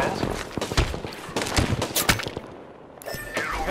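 In an Apex Legends firefight, irregular bursts of gunshots pile up as loud cracks and rattling volleys, with a short lull before firing resumes.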